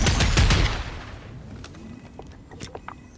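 A bot firing a gun in Fortnite: a quick loud volley of shots up front that fades into scattered, quieter pops and clicks.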